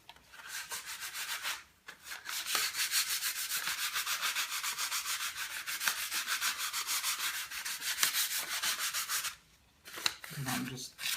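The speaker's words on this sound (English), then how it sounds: "And I'm going to take the sanding paper here." Steady, loud abrasive rasping of sandpaper rubbed back and forth on wood, continuing for several seconds before stopping briefly and resuming.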